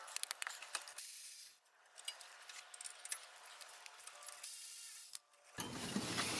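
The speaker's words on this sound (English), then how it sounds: "you'll go ahead with your 10mm socket and remove the 2 caliper bolts that hold it to the caliper mounting bracket" A 10mm socket on a ratchet works the brake caliper bolts on a 2009-18 Dodge Ram 1500 rear brake, making quiet rapid clicking and metallic jangling in short bursts with pauses between.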